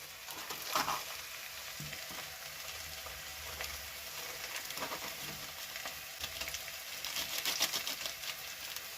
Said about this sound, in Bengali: মিট মশলা দিয়ে এটাকে ভালো করে নাড়িয়ে নেব।